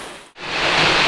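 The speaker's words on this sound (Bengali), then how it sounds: "ওইদিকে পুরো জোরে বৃষ্টি হচ্ছে" Heavy rain pouring down, a broad roaring wash that dips briefly then swells to full strength and holds, loud and close, with no voices.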